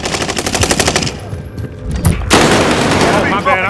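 Rapid automatic gunfire from a first-person shooter video game, loud and sustained in dense bursts with a short lull, then a heavy blast of fire.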